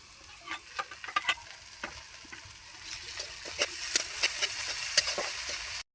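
Ginger and garlic frying in a pan, a thin steady sizzle with scattered crackles and soft scraping stirs throughout, close and moderately loud, ending abruptly.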